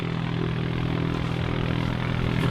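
A light aircraft, an Icarus, drones steadily overhead near a small airfield, its propeller engine giving a continuous even hum with a low tonal buzz throughout, no voices.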